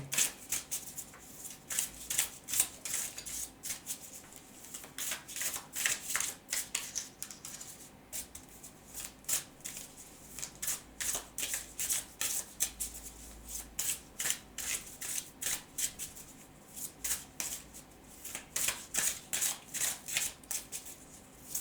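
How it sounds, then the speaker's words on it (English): Repeated riffling and shuffling of a tarot card deck, rapid papery flutters in bursts with short pauses, close up and otherwise quiet. "go ahead and shuffle this deck several times"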